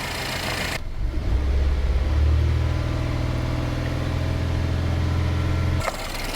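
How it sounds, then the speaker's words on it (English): A car engine revs up and is held at roughly 2500 to 3000 RPM for a battery load test, a loud, close, steady drone lasting about five seconds before it cuts off, with no talk. "Increase RPM to 2500 to 3000 and keep it for 5 seconds."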